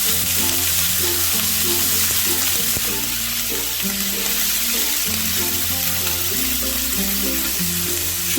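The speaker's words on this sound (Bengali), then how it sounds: "সবজিগুলো দিয়েও একটুখানি নাড়াচাড়া করবো আমি" Loud, steady sizzling of vegetables frying in a pan for oats khichdi, with scraping stirs and knocks of a utensil throughout, no voices.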